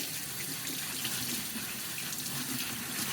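Tap water runs steadily into a sink to rinse a cornhole bag, a continuous close hiss and splash with no pauses or voices.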